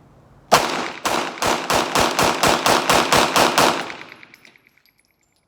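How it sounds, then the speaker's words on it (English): A Glock pistol fed from Shield Arms magazines fires about a dozen loud, sharp shots in fast, steady succession, each crack followed by a brief echo, and the shooting then stops abruptly. "let's run 3 more rounds through this gun."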